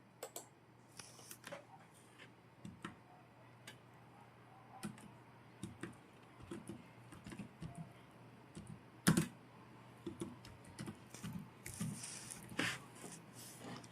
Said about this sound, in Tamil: அதுக்காக இங்கே வந்து டைப் பண்ணுறேன்.